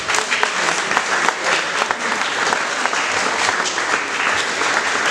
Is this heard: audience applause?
yes